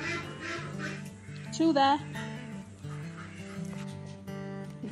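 Backyard chickens being fed hornworms cluck and squawk in short bursts close by, with a brief louder squawk midway, while a person talks over the birds.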